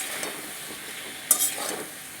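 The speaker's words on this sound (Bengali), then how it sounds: "এবার ভালো করে আমি কষিয়ে নেব।" Chopped tomatoes with a little water sautéing for fish curry, a gentle steady sizzle with a couple of brief spatula scrapes toward the end.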